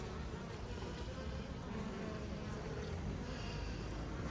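Honey bees buzz densely and continuously around an open hive during an apiary inspection, a close, steady drone with no breaks.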